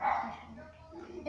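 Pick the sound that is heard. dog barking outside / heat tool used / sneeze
dog barking outside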